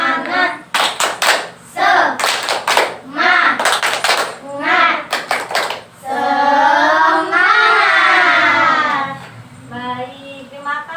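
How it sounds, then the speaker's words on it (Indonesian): A classroom of children claps in rhythmic patterned bursts during a chant in a teaching session, close and loud, with the children's voices chanting between and over the claps. "Kita tepuk tangan lagi ya, tepuk semangat lagi ya."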